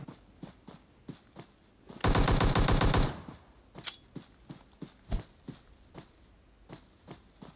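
Automatic gunfire in a video game shootout: a single loud, dense burst lasting about a second, set against a background of quieter intermittent clicks and taps, with no talking.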